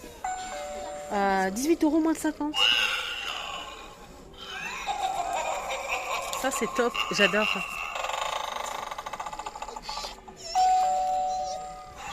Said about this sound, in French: Ah, c'est la sonnette en fait, c'est génial.